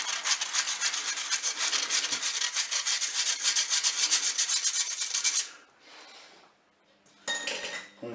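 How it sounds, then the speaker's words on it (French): Flour and baking powder being sifted through a metal sieve into a mixing bowl for a hazelnut cake, a steady close scratchy rasping shake for about five seconds, then fainter intermittent bursts. "Je vais mettre la farine et puis ma levure. Et voilà, on va tamiser."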